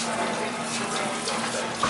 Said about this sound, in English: now I wash it all down, so I'm just going to rinse